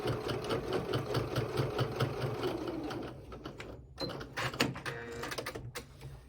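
A sewing machine runs steadily with a rapid rhythmic stitching beat, then stops briefly and resumes in uneven short back-stitch bursts while sewing a small bag.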